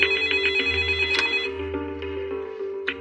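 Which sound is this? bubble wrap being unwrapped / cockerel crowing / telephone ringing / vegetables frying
telephone ringing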